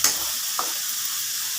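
Spices and chili powder being stirred in a hot frying pan for tomato sambar, a steady loud broadband sizzle with a couple of brief scraping stir strokes, no talk.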